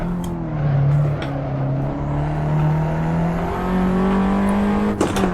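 A Fiat 500 Abarth's engine revs hard around the Nordschleife in the Assetto Corsa racing game, holding a loud, continuous drone that climbs and dips steadily in pitch through the corners with no pause.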